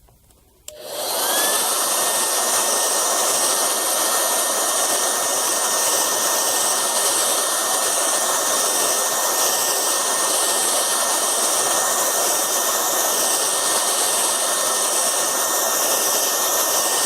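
A dryer switched on to dry freshly sprayed dye on a vinyl chair, starting abruptly and then blowing as a loud, steady, unbroken whoosh with a faint high whine, no talk.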